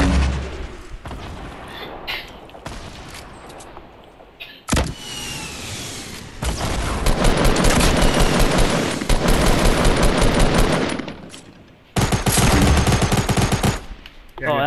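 Gunfire in an action video game, long stretches of rapid automatic shots rattling close and loud, broken by a couple of abrupt cuts and a booming hit, with game noise and occasional talk.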